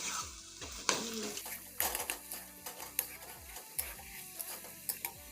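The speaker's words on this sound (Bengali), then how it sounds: "সবজিটা ভালো করে ভেজে ভেজে নেব" Cabbage with spices frying in a pan is stirred with quick, repeated spatula scrapes and clanks over a faint, low sizzle.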